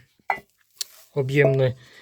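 Two metal saucepans of about 3–4 litres with matching lids are handled at home, giving a couple of brief, close clanks, followed by a short voiced sound.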